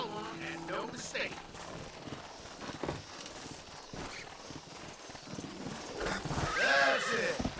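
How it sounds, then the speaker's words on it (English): A horse in the video game Red Dead Redemption whinnies and neighs repeatedly over clopping hooves, with a character's voice talking throughout and a louder, close neigh near the end. "This steed looks right tetchy, I don't mind telling."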